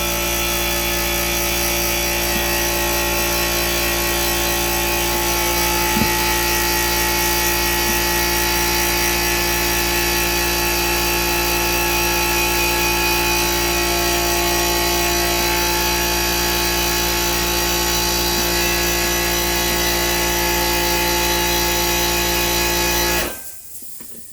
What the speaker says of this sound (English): Generator just kicks on, or the compressor just kicks on whenever it wants to